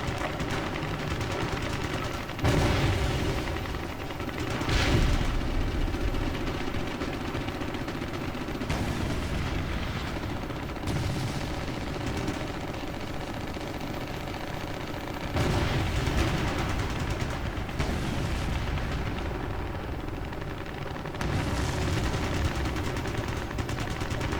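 Sustained heavy gunfire during an Apache helicopter ground operation: a dense, loud wall of automatic fire and booming blasts that swells and surges in waves without pause.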